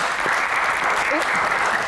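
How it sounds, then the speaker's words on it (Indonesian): Dense audience applause at a Q&A session, a brief, full burst of clapping with murmuring voices mixed in. "tepuk tangan."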